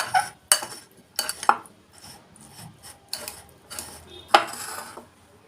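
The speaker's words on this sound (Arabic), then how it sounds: "نقلب كويس جدا" A pizza-style feteer cheese mixture being stirred in a bowl, with a few sharp scrapes and clinks of a utensil against the dish, close by and separated by short pauses.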